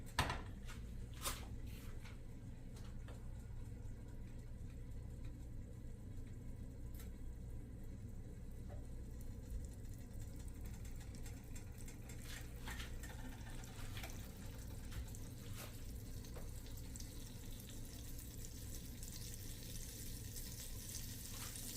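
Two tablespoons of vegan butter sizzle steadily in a pan as a glaze for tofu begins, a continuous soft frying hiss with a few faint clinks and bumps throughout.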